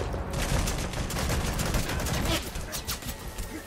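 Dense gunfire in Metal Gear Solid 5: The Phantom Pain, a loud continuous fusillade of rapid shots striking around the player, with a voice faintly underneath.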